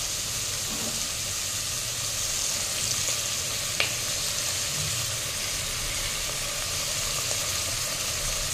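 Tomato with ginger and radhuni paste sautéing in a pan for Bengali bhoger khichuri, a loud, continuous close sizzle with one brief clink partway through and no talk.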